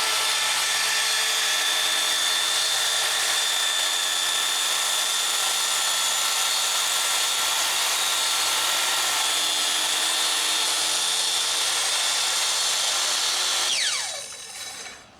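A track saw cuts a strip from MDF about 44 inches long. Its loud, steady whine holds continuously for many seconds, then winds down quickly as the blade spins to a stop.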